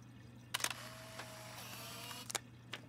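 In the video game Life Is Strange, a camera takes a photo: quiet mechanical clicks, a brief whirring motor, and a few more shutter clicks, close and alone.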